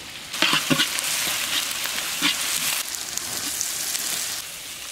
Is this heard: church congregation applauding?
no